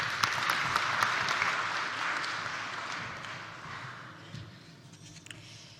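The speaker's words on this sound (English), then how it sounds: "Please give her a warm round of applause." An audience at a global aviation gender summit gives a warm round of applause, dense clapping that starts full and gradually thins and fades over several seconds.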